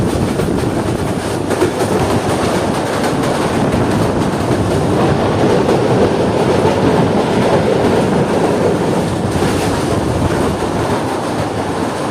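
An express train runs on rails with a loud, continuous rumble and rhythmic clickety-clack, heard close from on board throughout.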